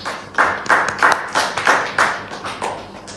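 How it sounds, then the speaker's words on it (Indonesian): A classroom group claps for a student team in roughly ten firm, evenly spaced unison beats that grow softer toward the end. "tepuk tangan untuk kelompok 4"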